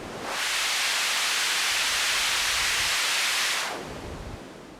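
Synthesized rain noise from a DSI Pro 2 synthesizer: steady broadband hiss like heavy rain pouring close by, swelling in quickly, holding loud and even, then dropping to a softer wash near the end.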